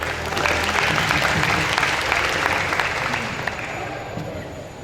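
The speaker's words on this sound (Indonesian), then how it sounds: "berikan tepuk tangan untuk" An audience at a school student council training event gives continuous, full applause, dense and steady handclapping heard close, with only faint crowd murmur beneath.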